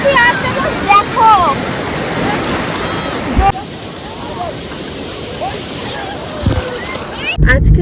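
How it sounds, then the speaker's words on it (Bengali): Rough sea at Digha beach sends waves crashing in a loud, continuous roar of surf, with heavier splashing bursts breaking through now and then; voices are faintly present. "ঢেউটা কি আসছে দেখো।"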